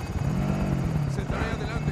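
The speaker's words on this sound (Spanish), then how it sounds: "Atento, helicóptero de ataque enemigo en camino." Enemy attack helicopter in the Call of Duty: Modern Warfare video game, a steady rotor thump and engine drone throughout, close and loud, with a game voice talking over it.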